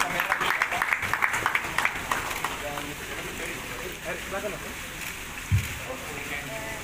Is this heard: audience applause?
yes